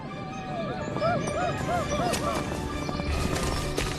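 Horses of Attila's shock troops charge with pounding hooves and whinnies amid a loud battle din, dogs barking and a narrator talking over the noise.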